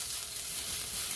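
Garlic frying in a pan for pork monggo stew, a steady, soft crackling sizzle of oil heard close, without voices.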